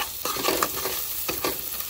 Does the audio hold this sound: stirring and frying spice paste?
yes